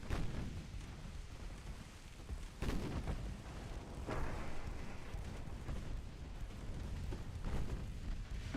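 Naval guns fire in the warship game Ultimate Admiral Dreadnoughts, with deep booming salvos and rumbling blasts recurring over a dense, continuous low roar of distant battle, heard without talking.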